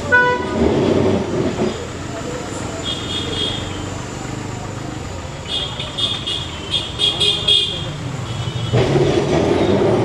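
A Kolkata tram rumbles along its line between Esplanade and Shyambazar, with a couple of short, fairly loud horn toots in the middle and people talking nearby over the steady rolling noise.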